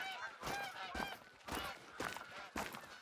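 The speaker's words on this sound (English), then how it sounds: "That is a diamond potential goose." A goose honks in a hunting video game set on the Hirschfelden map, giving about five loud, nasal calls close by at an uneven pace.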